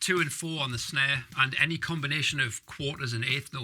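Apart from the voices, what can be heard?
None of the usual background noises is heard.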